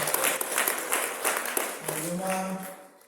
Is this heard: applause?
yes